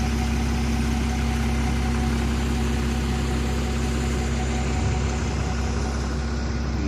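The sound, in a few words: service vehicle engine started and idling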